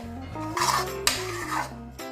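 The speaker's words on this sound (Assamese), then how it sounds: "মই গেছটো অফ কৰি দিওঁ, তাৰপিছত বেলেগ এটা বাউললৈ কাঢ়ি দিওঁ।" Olive pickle being scraped from a pot into another bowl with a metal spoon, producing close clinks and rasping scrapes against the cookware over a steady background hum.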